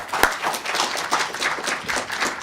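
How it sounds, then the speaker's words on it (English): Short burst of audience clapping at a county commissioner candidate debate, a few sharp claps followed by rhythmic, moderately loud applause that pulses unevenly throughout. "how about a round of applause for all three of them?"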